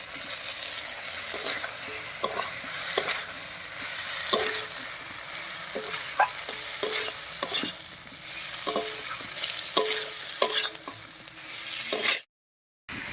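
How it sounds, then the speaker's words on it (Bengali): Prawns sizzle and fry in a thick spice masala while being stirred, with scraping utensil strokes against the pan over a steady close hiss, ending in a brief silence. "মশলার সঙ্গে চিংড়ি মাছটা খুব ভালো করে কষে গেছে।"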